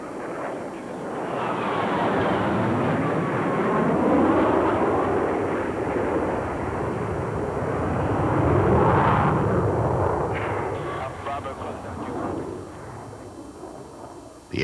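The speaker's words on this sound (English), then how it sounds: "This amazing versatility allows the Hornet to do the jobs that used to take two different Navy aircraft." A Navy F-18 Hornet fighter jet roars overhead, a broad, loud rushing thunder that swells and fades twice as it passes, with no speech.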